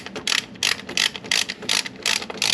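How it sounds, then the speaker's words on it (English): Ratchet wrench clicking in repeated bursts while 10 mm valve cover bolts are tightened on a 2004 Ram truck, about seven fast ratcheting runs close to the microphone with brief pauses between them. "I got the valve cover all tightened up."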